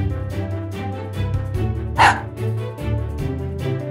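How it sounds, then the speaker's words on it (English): A toy robot dog lets out repeated short electronic barks and yips in a quick rhythm, fairly loud and close, with no one talking over them. "Chip is a robot. Chip is a dog."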